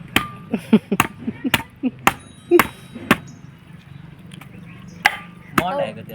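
A hammer strikes sharply several times at irregular intervals, each blow a crisp close crack, with people chatting in between.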